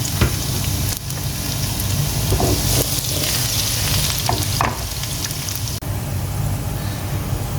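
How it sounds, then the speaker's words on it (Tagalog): Garlic fries in hot oil until golden brown, a dense unbroken crackling sizzle close up, with occasional scrapes of stirring and a brief knock partway through. "ilalagay ko na aking bawang. Kailangan natin yung golden brown"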